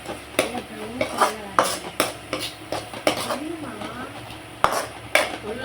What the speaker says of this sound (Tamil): நல்லா வெங்காயம் பொண்ணுலாம் வர மாதிரி வதங்கணும்